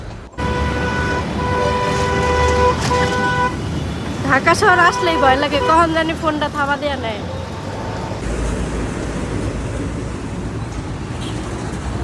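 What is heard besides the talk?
train passing in the city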